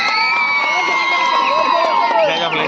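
Spectators at a college festival kabaddi semifinal cheer loudly, a dense crowd of shouting and whooping voices with high excited calls, close and sustained throughout.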